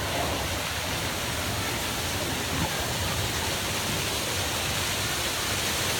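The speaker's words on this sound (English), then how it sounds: "And one of our 3 waterfalls" A waterfall pours in a dense, steady roar of rushing water, close and loud, unchanging from start to finish with no voices.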